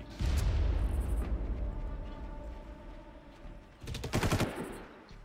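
Grenade explosions in the video game Far Cry: a heavy boom near the start fades into rumbling debris, followed later by a second cluster of loud blasts mixed with rapid crackling, with no voices.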